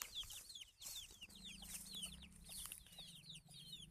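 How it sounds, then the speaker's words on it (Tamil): Chickens on a farm cluck and chirp in a steady busy chorus of short calls, with a low hum running underneath and no voices. "இங்கே ஒரு கோழி, நெக்ஸ்ட்டு இதுக்குள்ளே ஒரு கோழி இருக்குது."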